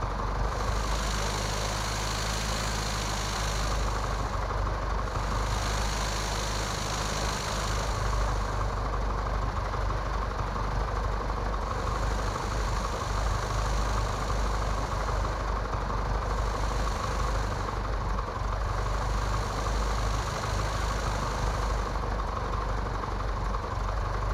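In Microsoft Flight Simulator X, an aircraft engine drones steadily during a taxi for a ground-operations mission, a continuous low hum with slight pulsing that stays constant and loud throughout.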